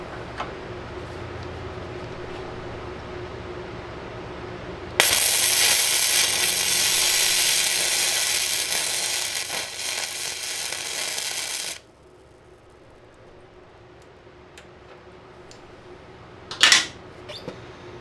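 A nut being welded onto a Cub Cadet 582 pulling tractor: a loud, steady crackling hiss of the arc lasts about seven seconds and then cuts off, leaving a quiet hum and one brief clank near the end.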